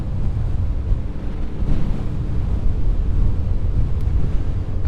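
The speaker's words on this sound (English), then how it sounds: "on our way back home, we have the wind from behind." Wind rushes steadily across a small boat sailing around the IJssel lake, a loud, continuous low buffeting roar with the wash of water underneath.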